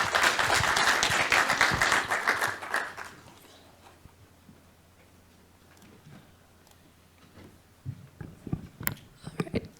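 An audience at a symposium applauding to welcome a speaker, a loud burst of clapping that fades within a few seconds into quiet room noise, followed by scattered clicks and handling sounds.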